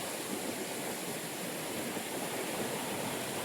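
Steady rushing monsoon water flowing in a village stream, a continuous broad wash of flowing sound with no breaks or voices.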